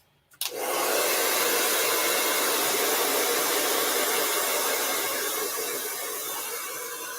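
A hair dryer blows on fresh paint for a Halloween painting, switching on abruptly and running as a steady, loud, close whoosh of broadband air noise that holds for several seconds, tapering slightly near the end.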